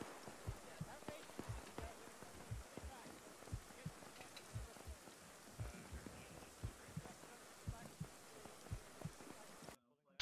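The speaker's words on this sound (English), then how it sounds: "I can hear my heartbeat" A heartbeat effect in a military shooter, heard while under morphine: soft, low, steady thumps pulse for about ten seconds under a hissy, rain-like wash, then cut out abruptly.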